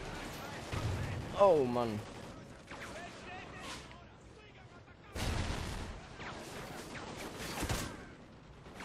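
Bursts of gunfire and explosions in the video game Call of Duty Ghosts, with rapid shots in several clusters amid quieter stretches, and someone speaking briefly over the action.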